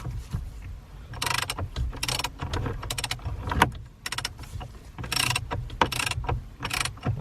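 A ratchet wrench tightens the steering wheel bolt on a 2013–2020 Ford Fusion, repeated bursts of close clicking ratchet strokes separated by short pauses.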